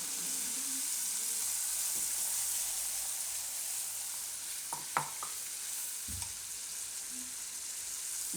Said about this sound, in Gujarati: હિંગ નાખીને આપણે એમાં આ ચટણી નાખી દઉં